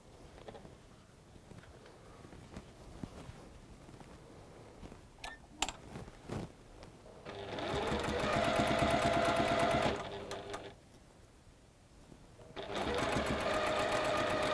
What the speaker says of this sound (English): And we're going to sew that to that side.